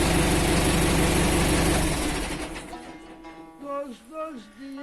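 A Tümosan 8195 tractor, left unused for three months, idles with a deep steady diesel rumble after a cold start, then is switched off and the engine noise fades as someone talks over the quiet.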